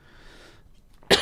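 A single sharp cough bursts out near the end, loud and close, after a stretch of faint background murmur from a studio panel game show.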